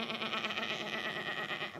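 A voice imitates a goat or sheep bleating in a sustained nasal wavering tone during a singing exercise, loud and close.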